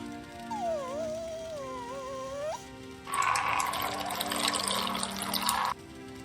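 A dog named Merlin peeing in the game Skyrim, a sustained splashing stream of liquid lasting a few seconds after a tonal whistle-like sound, fairly close and then stopping abruptly.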